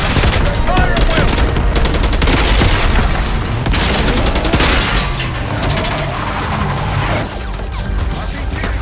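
Heavy sustained gunfire from Call of Duty: Black Ops 6, with rapid automatic bursts and booming impacts that keep up loudly and continuously throughout, while voices are faintly heard beneath the din.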